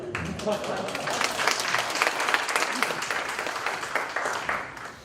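Applause from an audience at a Korean pastors' prayer meeting lecture, a dense steady patter of many hands clapping that fades slightly at the end, with a voice underneath.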